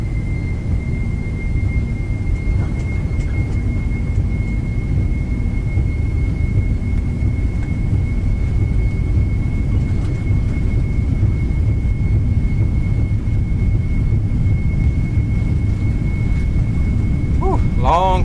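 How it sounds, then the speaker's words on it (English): Simulated jet airliner rolling down the runway for takeoff in X-Plane 11 on a flight from Orlando, a steady loud engine roar with a constant high whine held throughout, spoken voice layered over it. "long takeoff roll today"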